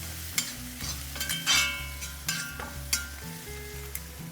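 Onions frying in a pan give a steady sizzle, broken by sharp spoon scrapes and clinks as they are stirred. Soft background music plays under the cooking.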